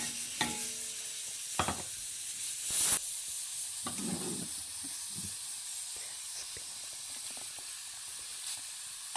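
Crushed garlic and chili fry in oil for sarson ka saag, giving a steady, bright sizzle with hiss throughout. Occasional stirring scrapes and a brief sharp spatter cut through, with no talking.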